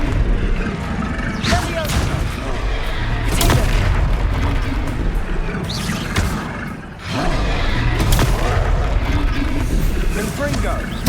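Confringo fire spells explode during Hogwarts Legacy gameplay: several sharp blasts crack out at intervals over a dense, rumbling game soundscape, with a voice talking throughout.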